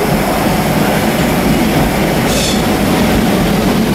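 Steady, loud broadband rumble and hiss of a First Capital Connect passenger train at a naming ceremony, continuous throughout with a brief brighter squeal in the middle.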